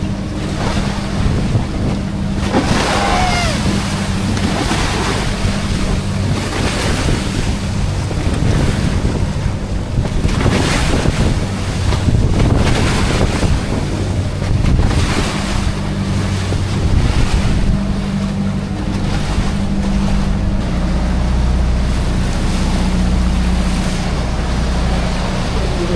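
A boat runs at sea in a steady roar of wind buffeting the microphone, water rushing and waves slapping the hull, continuous and loud throughout with engine rumble underneath.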